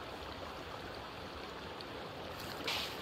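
River water flows steadily in the survival game Sons of The Forest, a continuous close rushing wash with a brief louder splash near the end.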